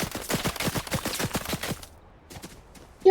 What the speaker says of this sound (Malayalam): പൊന്നെ എന്തൊരു വെടിയാണോ ഇത്.